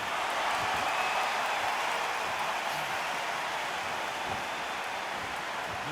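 A crowd murmurs in a boxing arena in the Undisputed video game, a faint, even, continuous wash of buzzing noise with no distinct voices standing out.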